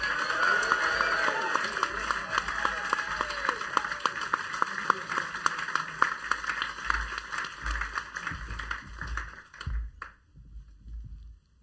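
Audience applauding poet Fred D'Aguiar after a performance, a sustained dense burst of clapping that carries for several seconds, then thins out and stops abruptly near the end.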